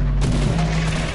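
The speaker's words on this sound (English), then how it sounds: "Everybody shooting at me." Dense, continuous video game gunfire with booming shots rumbling together for about a second, loud and close, with no speech over it.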